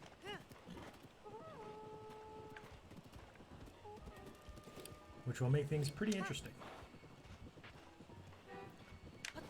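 Hooves clip-clop steadily at a walking pace, with a brief whinny, under game music and someone talking.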